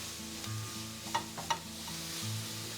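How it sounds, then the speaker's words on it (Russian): Grated carrots and other vegetables sautéing in a frying pan for a Bulgarian soup while being stirred: a steady close sizzle with a couple of sharp utensil clinks against the pan. "Теперь пассируем овощи, помешивая уже вместе."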